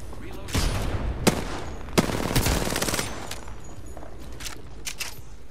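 Rapid automatic weapon fire in the Apex Legends game, with sharp loud cracks near 1.3 and 2 seconds amid bursts of gunshots, then scattered quieter shots and footstep-like movement over a background rumble.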